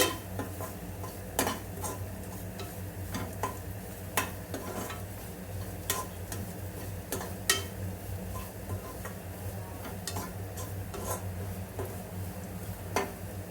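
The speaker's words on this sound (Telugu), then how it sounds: "ఇలా ఆయిల్లో మంచిగా ఫ్రై చేసుకోవాలి." Fresh grated coconut frying in oil in a pan, stirred with a utensil that clinks and scrapes at irregular intervals over a faint, steady sizzle, with no voices.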